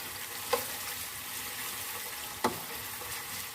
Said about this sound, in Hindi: ऑयल में हम प्याज को फ्राई कर लेते हैं।